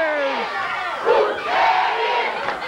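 A wrestling arena crowd roaring and yelling in a loud, continuous wash of cheers with no pause.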